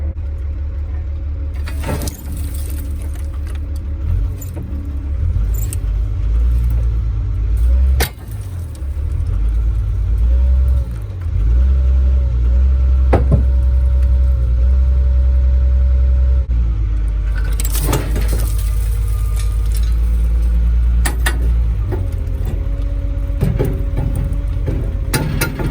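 A loader's engine revs hard and holds a deep, steady rumble while straining to break a chain, with surges and brief rattles throughout and no talking.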